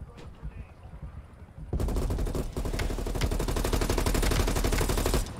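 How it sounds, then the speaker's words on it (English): Rapid gunfire from a Black Ops Cold War match, with sniper rifle shots coming from the ridge, breaks out suddenly after a quieter start and keeps rattling loudly and steadily to the end, with players talking underneath. "They're sniping from the ridge."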